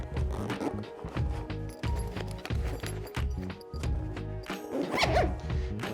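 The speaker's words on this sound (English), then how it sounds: "go ahead and zip that all the way down" Zipper pulled along the fabric of a LED balloon light bag, a series of short rasping zips in bursts with handling rustle and knocks, close and fairly quiet.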